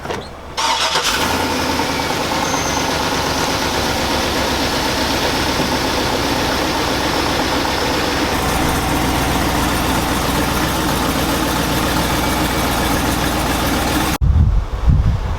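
A worn 2003 GMC Sierra 3500 truck engine starts and settles into a loud, steady idle, rumbling close by for over ten seconds before cutting off abruptly.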